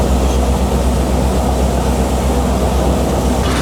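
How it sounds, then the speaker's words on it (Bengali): A train runs across the water along the sea in Sri Lanka, giving a loud, steady, unbroken rumble with a heavy low-end roar throughout. "শ্রীলঙ্কাতে ট্রেন চলতেছে, হাওড়ের বুকে পানির উপর দিয়ে ট্রেন"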